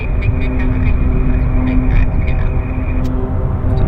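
A Piper Navajo twin-engine plane at Vancouver Airport gives a steady, loud engine drone with a constant tone throughout, while a person talks over it.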